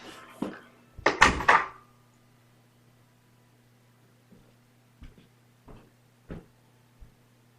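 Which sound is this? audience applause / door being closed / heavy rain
door being closed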